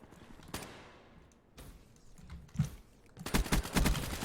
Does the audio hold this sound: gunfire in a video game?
yes